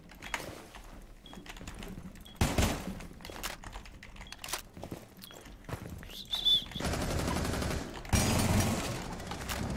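Automatic gunfire from the player's own weapon in Rainbow Six Siege, coming in several loud close bursts with mechanical clatter between them and no talk over it.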